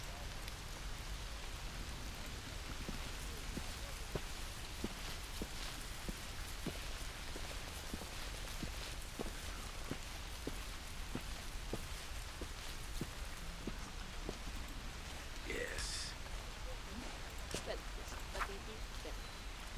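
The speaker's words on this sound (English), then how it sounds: "The rain." Steady rain patters in the video game Book of Travels, a dense, even wash of drops with scattered sharper taps, faint and constant throughout, with a soft voice briefly present underneath.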